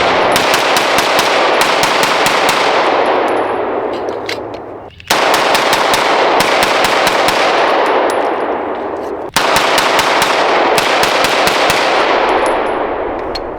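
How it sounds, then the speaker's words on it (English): A Springfield SA-35 pistol fires Winchester white box rounds at a range: loud, rapid, sharp gunshots crowd together almost continuously, with two brief pauses. "Let's do about 15 more rounds and then we'll wrap up the range day."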